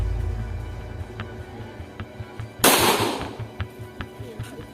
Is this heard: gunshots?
yes